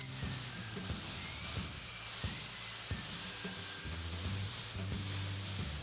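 A spray gun with a widened fan lays polyurethane top coat onto a chair, a steady close hiss of atomized finish running continuously with faint shop background beneath.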